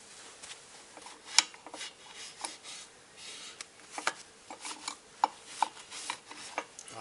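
Gasket surface of a Puch E50 moped engine being scraped clean during clutch work, a faint series of irregular short scrapes and rasps with small clicks, close up and quiet, no talking.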